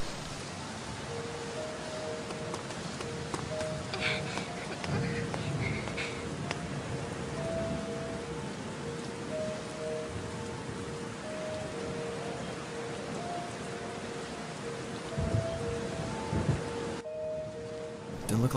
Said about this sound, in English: You know this rain came out of nowhere.